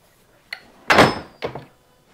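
A latch release mechanism in a studio villa at Disney's Beach Club Villas is pressed: a light click, then a solid thunk as it lets go, and a softer clack, all close and distinct.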